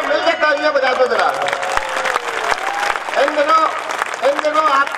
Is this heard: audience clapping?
yes